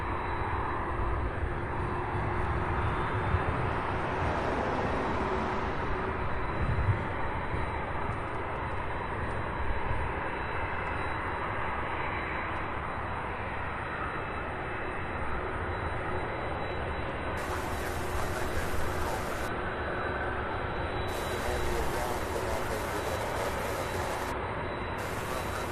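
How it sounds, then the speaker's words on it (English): An MD-11 jet on the ramp at Louisville airport during several simultaneous pushbacks, heard as a steady, broad engine roar and whine that holds evenly throughout, moderately distant and unbroken. "Oh yeah, here's the MD-11."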